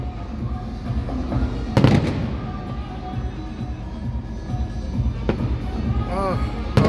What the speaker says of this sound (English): This fireworks just keeps, whoever's over here just doesn't let go.